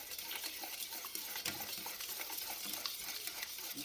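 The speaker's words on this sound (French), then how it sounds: "Je mélange délicatement pour que ça ne s'éparpille pas partout." A utensil stirs pancake batter with milk in a bowl, giving a faint, continuous swishing with soft scraping and occasional light clinks, close by and without any voices.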